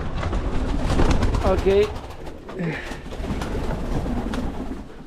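Baby pigeons coo in an aviary loft, soft low murmuring calls mixed with a broadband rustling background, while someone speaks briefly.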